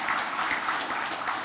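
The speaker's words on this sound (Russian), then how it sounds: "Аплодисментами давайте вот Зинат Хайдарович" A ceremony audience honouring Zinat Khaidarovich breaks into dense, sustained applause, with many hands clapping close and loud throughout.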